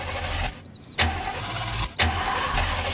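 A car engine cranking over repeatedly in a scene from the 2007 Transformers film, with short bursts of starter whir separated by brief gaps, loud and close, with no speech.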